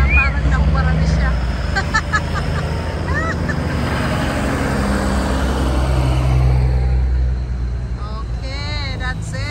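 Truck engine rumbling at a car show parade in Victoria, Canada, a steady low drone with revving swells, mixed with crowd babble and nearby voices.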